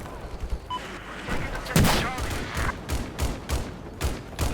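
Gunfire and a heavy blast in Battlefield 4, an armored vehicle exploding in a big burst near the middle, followed by several sharp, evenly spaced shots.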